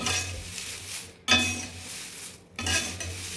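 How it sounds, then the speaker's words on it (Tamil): Curry leaves roast in a pan while a spoon stirs them, scraping and clinking against the metal in three bursts separated by short pauses, all close up over a soft frying sizzle. "கருவேப்பிலை வறுத்துட்ருக்கேன்."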